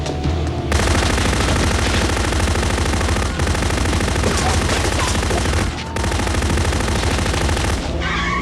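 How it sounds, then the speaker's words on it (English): Sustained machine-gun fire rattles loudly and rapidly in bursts, with brief gaps near the start and around the middle before the dense, close volleys resume. "Nobody told you to shoot the guy, Frank"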